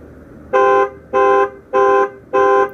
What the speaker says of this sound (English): hold the panic button down for a few seconds and the alarm will sound